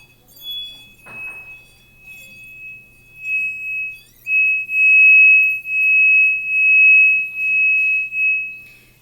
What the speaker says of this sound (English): So you can hear the humming sound when you're rubbing your finger along the edge of it